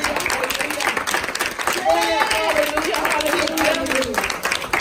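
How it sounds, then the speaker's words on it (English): Church congregation clapping hands during a praise service, a steady wash of claps under loud singing and voices throughout, with tonal vocal lines rising over the middle of the crowd noise. "Come on, clap your hands, everybody."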